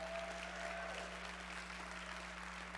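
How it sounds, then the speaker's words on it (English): Applause from an audience at a kindergarten graduation ceremony, a steady even wash of clapping held at a constant level under a low electrical hum, with no voices standing out. "And let's give them a round of applause tonight."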